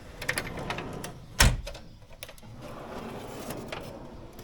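A pliers drawer in a workshop tool cabinet is pulled open, giving one sharp, close clatter amid quieter rustling and small handling noises.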